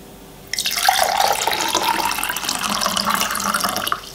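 Water pours steadily into a drinking glass for about three and a half seconds, a close, continuous splashing stream that starts abruptly and stops cleanly, with no voices.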